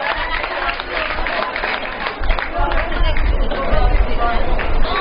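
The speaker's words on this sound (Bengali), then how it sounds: "তার জন্য একটা বড় হাত করতালি" Sustained applause from the audience at a quiz program, a dense crowd clapping steadily for about five seconds and swelling slightly toward the end, with faint chatter mixed in.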